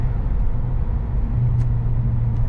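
A five-cylinder Fiat Stilo Schumacher edition running, a steady low engine rumble with a smooth even drone, close and continuous.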